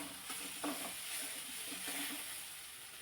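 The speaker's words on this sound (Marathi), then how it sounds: "याचा कच्चा स्मेल जाईपर्यंत चांगलं परतून घ्यायचे" A paste of ground green chili, ginger and garlic sautés quietly in a pan, giving a faint, steady hiss with a couple of soft stirring scrapes.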